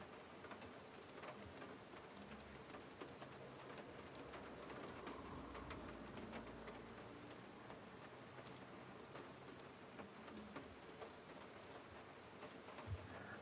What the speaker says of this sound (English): I think the rain has got heavier